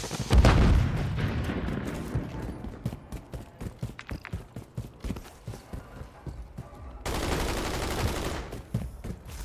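A stun grenade goes off in a video game firefight with a loud opening blast, followed by rapid repeated gunfire cracks and a renewed burst of dense noise near the end.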